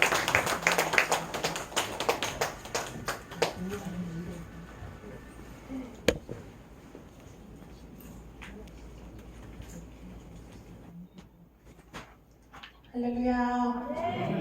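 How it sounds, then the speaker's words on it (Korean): A church mission-seminar audience claps to welcome a guest singer. The clapping is scattered and sharp at first, then thins to near silence, and a voice with music starts at the end. "크게 박수로 우리가 맞이하도록 하겠습니다."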